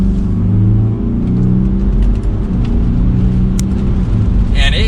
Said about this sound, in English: we'll give it a little bit of gas now.